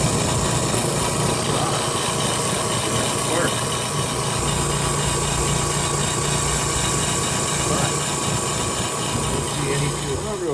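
A kerosene forced-air heater cannon, just repaired with a cleaned and regapped spark plug, runs with a continuous loud roaring drone and motor hum that stays steady and close throughout, alone without talk.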